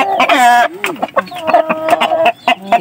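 A Shamo cross hen clucks close by in a series of short, uneven calls, opening with a louder drawn-out squawk followed by quick clipped clucks.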